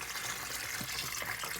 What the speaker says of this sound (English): you make sure you wash it with cold water,